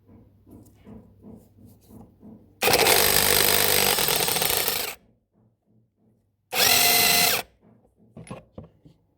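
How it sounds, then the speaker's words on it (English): A power tool unscrews the E18 gearbox side mounting screws on a Smart Fortwo Coupe 451 1.0 L micro-hybrid, in two loud bursts of whirring, one long and one short, with quieter knocking and clicking between them. "now we are going to remove the gearbox side mounting screws"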